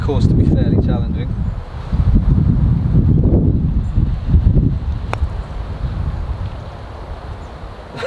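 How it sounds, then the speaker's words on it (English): Steady wind roars and buffets the microphone throughout, a loud, low rumbling gust noise with no break, on a golf course at Santa Ponsa, Mallorca. "Quite windy today"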